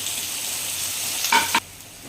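Shallots and green chillies sautéing in oil in a pan for a Tamil banana flower curry, a steady close sizzle with a brief spoon scrape near the end.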